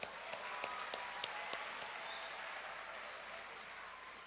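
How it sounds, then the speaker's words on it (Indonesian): Faint, distant applause at a factory visit, a thin patter of claps with a few sharper individual claps near the start that thins out toward the end. "Tepuk tangan."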